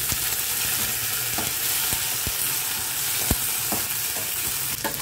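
Dried red chillies and curry leaves frying in hot oil for pulihora, a dense, loud, close crackling sizzle with scattered pops and utensil knocks throughout, and no speech.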